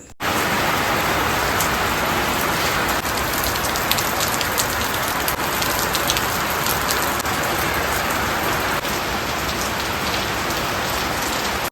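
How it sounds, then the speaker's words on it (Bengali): Heavy monsoon-style rain pours outside in a dense, continuous roar of drops on surfaces, loud and unbroken for the whole stretch with no voices. "যেই মুহূর্তে খেতে বসেছি অমনি বাইরে মুষলধারে বৃষ্টি শুরু হয়েছে"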